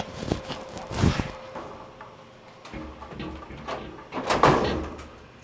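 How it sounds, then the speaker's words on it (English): Rattling and thudding from a small 1U Linux server's door coming loose during homelab setup: scattered clunks and scrapes, with a louder clattering burst near the end, close by and without speech. "My door is falling out."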